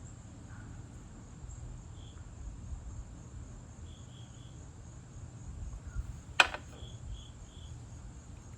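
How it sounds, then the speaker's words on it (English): A lone cricket chirps faintly in short, spaced bursts against a quiet low rumble, with one sharp knock near the end. "You hear that cricket?"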